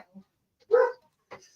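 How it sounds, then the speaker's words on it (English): Dog barking indoors, a single loud bark with a short yip before it and a fainter bark after, in a sparse quiet room. "Oops, dogs, stop barking, please."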